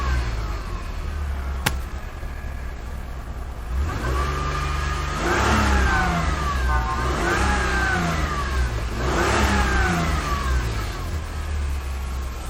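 A Toyota Land Cruiser engine, heavily damaged and low on coolant, catches and runs steadily, then revs up and down in three distinct swells before settling back to a loud, close idle.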